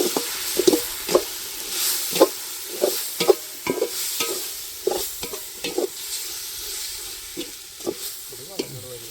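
Crushed shallots and ginger fry in a pan under a gentle sizzle, punctuated by regular sharp scraping strokes of a spoon stirring them, about a dozen in quick succession.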